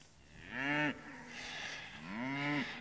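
Cattle on a farm during calf weaning, with Lowline cows present, give two drawn-out moos in succession, fairly near and clear, over a quiet outdoor background.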